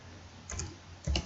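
Keys tapped on a computer keyboard while entering data into an Excel attendance sheet, a few soft clicks close by, then a louder cluster of presses near the end, with no talking.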